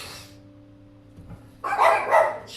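Dogs at home bark in a sudden loud burst of several sharp, close yaps after a quieter stretch with a low hum.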